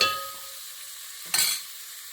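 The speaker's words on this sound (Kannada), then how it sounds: "ಈರುಳ್ಳಿ ಕೆಂಪಾಗೋವರೆಗೂ ಈ ಥರ ತಿರುಗಿಸ್ಕೊಂಡ್ಬಿಡ್ತೀನಿ." Onions and green chillies sizzle softly in hot oil for a tempering, with a steady frying hiss and one brief scrape of stirring partway through.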